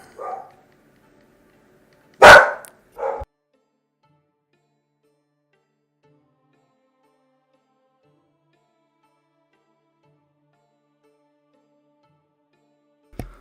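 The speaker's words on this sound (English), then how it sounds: "Dogs are going again." Several dogs bark in a house, one short yap followed by a loud burst and a second bark close together, then quiet with one last faint yip near the end.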